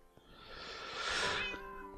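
Cats meowing in Minecraft, a drawn-out rising and falling meow that swells in the middle and fades, fairly quiet and alone with no talking over it.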